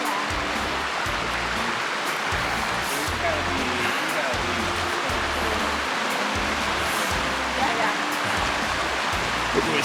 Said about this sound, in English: this is kind of like the river here